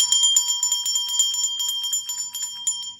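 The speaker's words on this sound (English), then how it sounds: "Remember this bell." A small bright bell rung rapidly and repeatedly, a quick irregular series of high metallic dings close to the microphone, with no voices.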